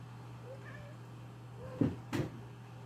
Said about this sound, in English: Still have the cat with us.